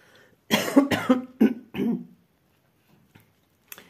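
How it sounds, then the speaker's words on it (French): A close, harsh bout of coughing, three or four rapid hacks in a row, followed by near silence. "Je vais finir par réveiller tout le monde à tousser comme ça."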